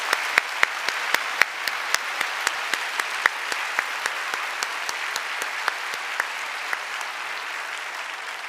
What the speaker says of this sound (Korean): 우리 아이들에게도 우리 박수하겠습니다